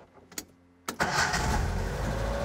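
A Nissan Sunny truck (Datsun 1200) with newly fitted electronic ignition is started: a couple of short cranking clicks, then the engine catches and settles into a loud, steady idle close by.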